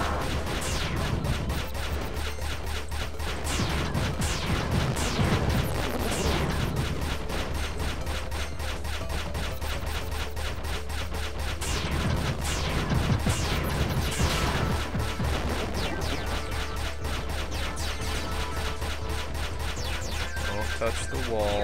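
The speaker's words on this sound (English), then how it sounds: "Oh god, that's a lot of missiles." Many missiles firing in the video game Good Robot, a dense, continuous barrage of rapid explosive bursts and crashes that runs throughout, with a person talking over it.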